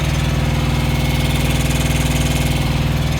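Thermo King auxiliary power unit on a truck runs with a steady, loud mid-pitched engine drone and rhythmic idle pulsing, close by and continuous with no talk.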